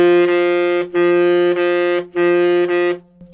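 A saxophone holds a steady, stuffy middle D three times, each sustained tone separated by brief pauses, clear and close with no talking.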